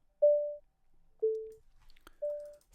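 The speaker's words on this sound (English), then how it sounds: "So I have now created a little sequencer here." Sine wave step sequencer built in MaxMSP, playing three clean, evenly spaced pure tones with short gaps between them, the middle note lower than the others, a faint click near the end.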